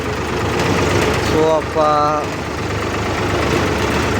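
A farm vehicle's engine idles at a steady low rumble throughout, close by, with someone speaking briefly over it partway through.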